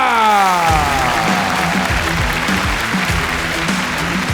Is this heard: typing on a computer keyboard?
no